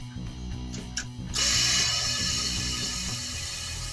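A Leed electric vacuum pump kicks on in a 1974 Chevy Monte Carlo, a steady close whirring hiss starting abruptly after a short mechanical clatter and continuing to the end.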